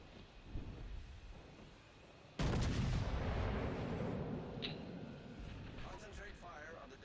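Naval gunfire in World of Warships: Legends booms as a heavy broadside that hits abruptly and then rumbles and decays over several seconds, with game voice lines and other talk around it.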